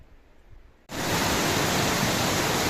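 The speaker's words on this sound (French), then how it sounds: "Bienvenue aux cascades de Stolabats." Waterfall cascades on a rocky forest trail in the Vosges, France: after a quiet start, a loud, steady broadband roar of falling water suddenly fills the scene and holds constant without talk.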